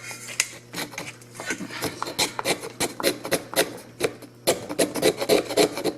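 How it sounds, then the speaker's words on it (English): Rough, rasping scrapes of a blade over a piece of fatwood, coming in quick uneven strokes, close and fairly loud, with no speech. "the only way to tell is to scrape it up"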